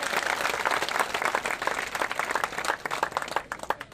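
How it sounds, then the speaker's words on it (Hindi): A youth audience at a by-election political rally in a village claps loudly to welcome a guest, a dense, sustained burst of applause that thins into scattered claps near the end. "मैं सभी उपस्थित युवा साथियों से निवेदन करता हूं कि जोरदार ताली बजाकर भैया का स्वागत करें।"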